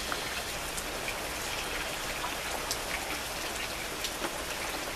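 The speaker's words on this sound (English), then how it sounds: "the heavy rain has let up already" Steady rain falls on a street in California, an even, close hiss of drops with occasional brighter pattering and no voices, lighter after a heavier downpour has eased.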